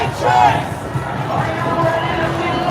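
Crowd noise from a street march through downtown Victoria, BC, with a broad murmur of many voices and scattered shouts rising and falling steadily throughout.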